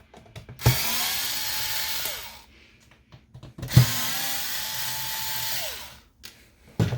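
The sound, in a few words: removing T10 screws from Xbox One X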